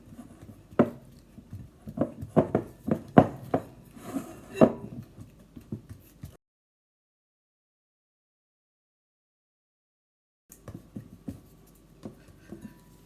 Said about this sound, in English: I'm just going to use this spatula just to make it into a ball